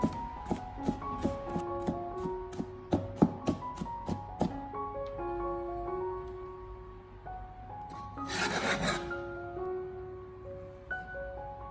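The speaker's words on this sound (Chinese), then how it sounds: "片切好了之后，再改刀切成蒜末" A knife chops sliced garlic into mince on a cutting board in quick, rhythmic taps for a few seconds, with faint background music that continues after the chopping stops.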